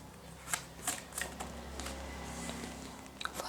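Tarot cards are shuffled and drawn, soft papery riffles and a few crisp snaps at the start and end over a low steady hum, close and quiet.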